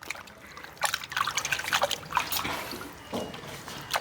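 Water from a kitchen tap trickles and splashes in uneven bursts while raw chicken is washed, close and fairly quiet, with no talk over it.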